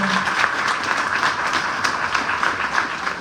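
A school audience at a CONALEP campus event in Ciudad Obregón applauds steadily: a dense, even wash of many clapping hands, moderately loud and continuous throughout, with no voices standing out.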